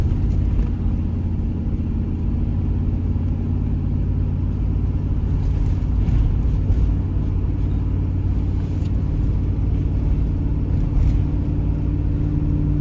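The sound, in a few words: Chevrolet Tahoe engine revving in second gear while towing a car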